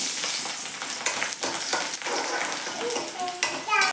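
Garlic sizzles and crackles steadily in hot oil while being stirred for a white chili pickle, a continuous frying hiss with scattered pops and a few sharp spatters toward the end.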